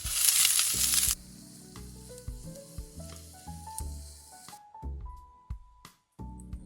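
Garlic, onion, broccoli and carrot hit hot oil with a loud burst of sizzling at first, then settle into quieter frying with stirring clatter and scattered clinks, no voices.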